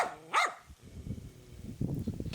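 Abandoned dogs in a frontline Ukrainian village. One sharp, close bark rings out near the start, followed by lower rustling and scuffling noise.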